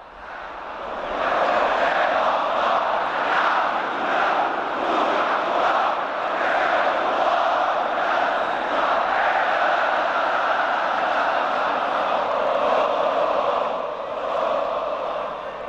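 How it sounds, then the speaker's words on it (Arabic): Seventy thousand Al Ahly supporters chant in unison inside a packed stadium, a massive continuous roar of voices with a rhythmic pulse, swelling up at the start and holding loud and steady throughout. "السبعين الف في الاستاد هتاف بصوت واحد"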